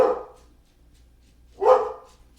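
A dog barks twice, one short bark at the start and another about one and a half seconds later, fairly close and clear against a quiet room with a faint low hum.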